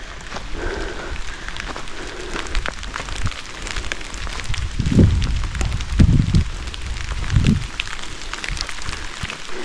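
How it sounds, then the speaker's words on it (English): Steady rain patters on a forest trail campsite near Standing Indian on the Appalachian Trail, a continuous close hiss with a few heavier thuds or footsteps mixed in. "Hopefully this rain goes away."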